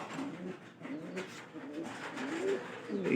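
Pigeons in a pigeon house where birds are nesting on eggs give low, throaty coos in close succession, nearby and moderately quiet, with soft rustling between calls.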